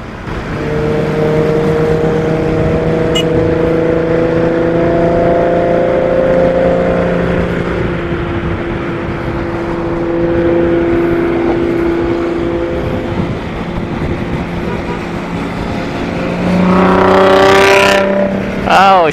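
A Toyota Mark X on the street gives a loud, sustained engine drone that rises and falls, then surges into a sharper rev near the end, with voices talking over it.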